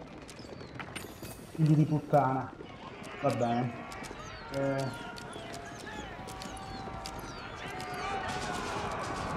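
Horses galloping in Age of Empires IV, hoofbeats clattering in bursts amid battle noise and clanks, with someone speaking Italian over it.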